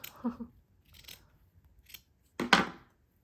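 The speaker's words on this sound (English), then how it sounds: "I am going to snip the first piece off the width of this book, or so" Scissors snip through a paper snippet roll for junk journaling: a couple of faint soft cuts early on, then one louder, crisp close-up snip near the end, with quiet pauses between and no talk.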